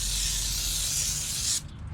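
A citrus-scented degreaser hisses from a spray nozzle onto the undercarriage of a Toyota FJ40, a close continuous spray that cuts off abruptly near the end.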